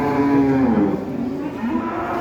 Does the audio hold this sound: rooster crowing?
no